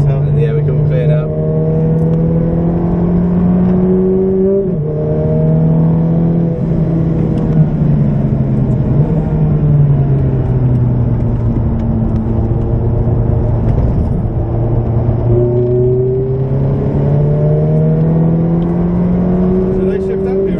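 A Ferrari F430 sports car engine drones loudly from inside the car at Silverstone, its pitch rising through gears and dropping at each shift, with people talking over the engine noise.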